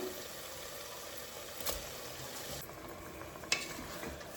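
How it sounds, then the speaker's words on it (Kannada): Rice being stirred in a cooking pot, a soft scraping and rustling over a low background hum, with a couple of faint clinks. "ಈ ರೀತಿ ಅಕ್ಕಿನ ಮಿಕ್ಸ್ ಮಾಡ್ಕೊಳ್ಳಿ."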